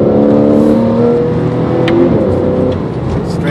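A Porsche accelerates on a race track, its engine note steady and loud throughout, with a brief higher whine midway as the car pulls through a long right-hand corner.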